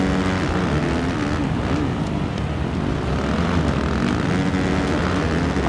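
Motocross motorcycle engine from the MXGP 2019 racing game, a loud continuous buzzing drone that holds steady throughout with slight rises and dips in revs, and no voices over it.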